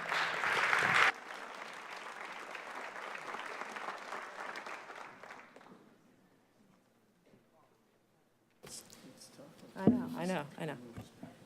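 Audience clapping at a 2018 high school senior awards ceremony, a dense burst that fades away after a few seconds, then a pause before a voice begins speaking.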